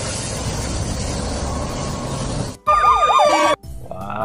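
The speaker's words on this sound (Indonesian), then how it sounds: "Wah, kita menemukan mobil ambulans." After a stretch of rumbling, a toy ambulance's electronic siren wails loudly, warbling for about a second. Two brief quiet gaps break the sound, and a fainter bit of the siren follows.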